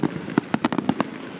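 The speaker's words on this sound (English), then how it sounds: "And just watch the fireworks." Rapid string of Fourth of July firecracker-style fireworks, about nine sharp cracks popping in an uneven burst over a second, fairly close and loud, then fading to quiet with no talk.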